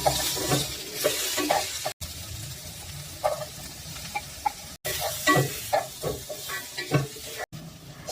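Garlic, onions and ginger sautéing in about a tablespoon of oil in a pan for Bicol Express, close crackling sizzle with stirring scrapes, broken by a few brief cuts.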